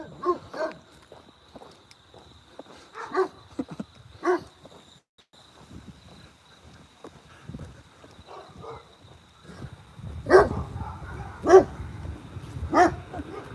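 Several dogs bark in short, scattered bursts, then louder, closer barks stack up toward the end over a low rumble of background noise.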